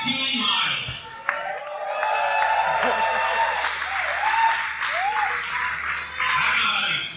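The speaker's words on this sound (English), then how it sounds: "that clapping was very sarcastic" A roomful of people at a World's Toughest Mudder endurance race event claps steadily, a dense wash of applause with some voices and cheers mixed in, sustained for several seconds.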